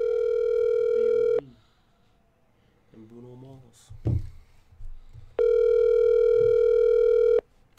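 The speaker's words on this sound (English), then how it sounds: "How many times can a phone ring before?" Outgoing phone call ringback tone, two long steady tonal rings sounding loud and close at the start and end, with someone speaking briefly in between.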